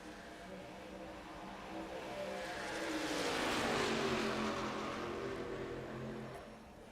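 A pack of race truck engines in an iRacing race start swells and passes, a loud sustained roar with a pitch that sweeps downward as the field goes by, with no talking.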